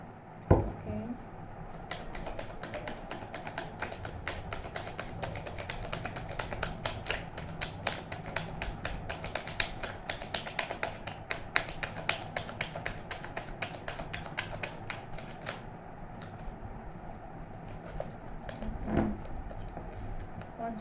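Tarot cards are shuffled close up in a quick, crisp stream of papery flicks and taps that carries on for most of the stretch, with occasional soft voice in between.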